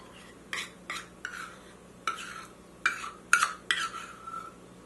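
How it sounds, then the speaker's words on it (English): Peanut butter granola bar mixture stirred in a bowl, a series of about eight distinct clinks and scrapes of a utensil against the bowl, irregularly spaced, over a quiet background. "I'm just going to stir these together"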